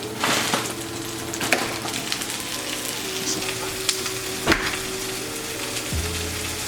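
Onions and peppers frying on low heat while being stirred, a steady close sizzle with occasional scraping strokes and knocks of the utensil on the pan, a low hum underneath and no speech.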